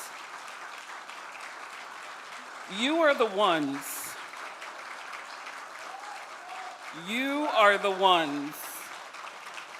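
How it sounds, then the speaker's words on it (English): Steady audience applause for a university's faculty and staff at an anniversary celebration, a continuous crackling patter running under a voice that speaks over it twice. "Ashesi faculty and staff, past and present, can you help me celebrate them with a round of applause?"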